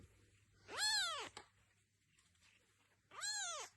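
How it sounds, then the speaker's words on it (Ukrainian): A young ginger kitten meows twice, loud and close, each call a drawn-out rising-then-falling cry separated by a quiet pause with faint background hum. "Український льотний кіт."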